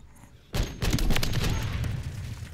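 An M4 rifle with a JAK Harbinger conversion fires in a video game: after a brief quiet, a loud, close burst of rapid automatic shots starts abruptly and continues steadily with ringing echoes.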